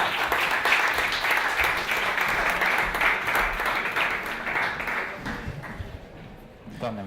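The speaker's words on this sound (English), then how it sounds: "I'd love to hear a very warm round of applause" A large audience at a startup conference applauds warmly and steadily, a thick wash of many hands clapping that holds for several seconds before gradually thinning toward the end.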